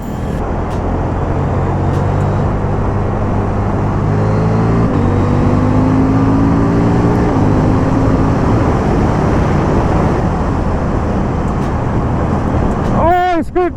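A Husqvarna Vitpilen 801 motorcycle is ridden on the road, its engine droning steadily with rising and falling pitch through gear changes, loud and close, under a rider's talk.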